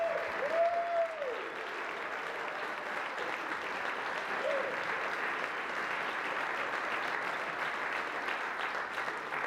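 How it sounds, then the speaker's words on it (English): A conference audience at Thinc Iowa 2012 applauds in a dense, sustained wash of clapping that holds steady across the room, with a brief whistle near the start. "give yourselves a big round of applause for coming in today"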